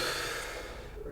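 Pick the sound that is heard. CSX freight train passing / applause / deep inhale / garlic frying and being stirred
deep inhale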